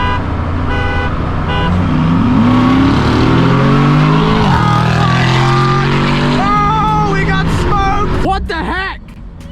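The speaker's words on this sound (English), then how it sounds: "this is just two cars side by side accelerating at the same time" Two cars, one a Ford, accelerate side by side on a street with a loud, sustained engine roar that climbs in pitch through the gears, then cuts off as voices start talking near the end.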